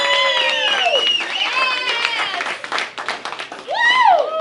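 A party crowd claps hands, with loud shouting and cheering voices over the clapping and some talk throughout.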